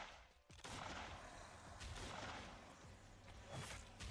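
A slasher firework weapon fires in the survival video game Last Day on Earth, giving a sharp burst followed by dense crackling, hissing bursts that swell again near the end.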